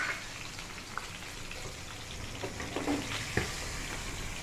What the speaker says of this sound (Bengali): এখানে রান্না করছে করলা ভাজা আর কাঁকরোল আর মাছ ভাজা হচ্ছে।